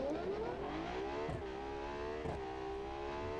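A dual-clutch car in BeamNG.drive launches down a drag strip, its engine note climbing steadily through each gear and dipping briefly at two quick shifts before rising again, loud and continuous with no talking.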